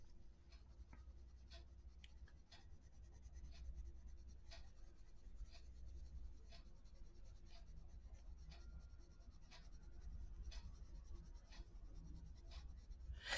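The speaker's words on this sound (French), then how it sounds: "Par contre, il glisse beaucoup sur ce papier" Coloured pencil strokes glide over paper, a soft steady scratching with repeated short strokes, quiet and close, no voices.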